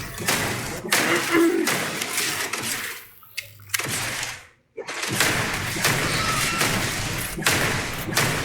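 Gunfire in Starfield, aimed at an enemy's leg, comes as a loud run of rapid close shots and thuds, broken by a short quiet gap before the shooting resumes.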